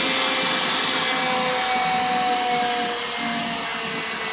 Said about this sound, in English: And then vacuum it up.